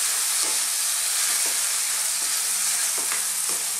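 Corned beef and small diced potatoes fry together in a pan, with a steady loud sizzle and occasional scraping stirs at an even rhythm, no talking.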